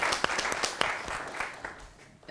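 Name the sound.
audience applause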